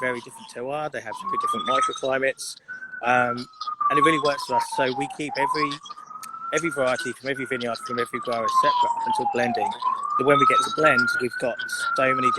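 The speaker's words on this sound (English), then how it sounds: "Sorry about the feedback and sirens." A police siren wails in rising and falling sweeps across the whole stretch in New York City, steady and fairly loud, under continuous talking from one person.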